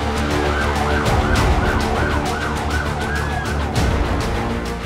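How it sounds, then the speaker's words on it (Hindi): A police van siren wails in Queens, New York, at a scene where ambulances are also deployed; the loud, close, warbling siren cycles repeatedly over a steady rumble of traffic with no talking. "पुलिस वैन के सायरन और एम्बुलेंस की तैनाती यहां मातम की गवाही चीख चीख कर दे रही है।"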